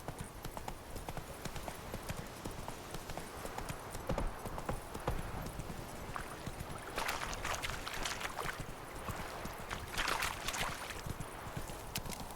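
Roach the horse gallops in The Witcher 3, hooves clip-clopping rapidly and steadily over a continuous ambient wash, with no one speaking.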